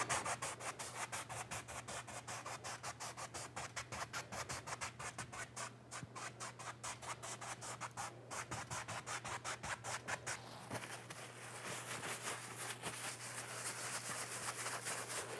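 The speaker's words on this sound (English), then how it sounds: "I'm just using the little crisscross motion, wiping off frequently here." A paintbrush scrubbing crisscross strokes across canvas in a winter evergreen landscape painting, a fast, steady rhythm of dry rasping scratches repeated many times, close and fairly quiet, with a low constant hum beneath and no voices.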